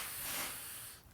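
A slow, steady inhalation during box breathing, a soft broadband airy hiss that swells and then tapers off near the end, close and quiet with no talking over it.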